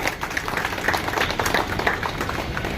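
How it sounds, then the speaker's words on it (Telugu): An audience claps in honour of a yoga teacher, a dense, steady patter of many hands filling the room at an even level throughout. "గురువు గారికి గౌరవ సూచనగా ఒకసారి క్లాప్స్ కొట్టండి."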